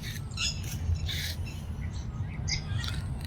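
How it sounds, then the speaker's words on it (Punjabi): Birds feeding on a road after rain squawk and chirp in short bursts over a steady low rumble, like traffic or an engine nearby, with no talking. "ਆਹ ਦੇਖੋ ਇਹ ਪੰਛੀ ਚੋਗਾ ਦੇ ਪਏ ਨੇ ਪੰਛੀ ਸੜਕ ਦੇ ਉੱਤੇ"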